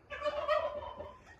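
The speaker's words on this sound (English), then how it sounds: "Some little rooster keeps screaming bloody murder" A little rooster lets out a short, loud, ragged call nearby, a single burst that lasts about a second, with no talk.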